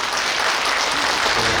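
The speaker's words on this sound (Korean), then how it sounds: "박수 주십시오" An audience at a book launch event bursts into a brief, dense round of applause, steady crowded clapping close by with no speech over it.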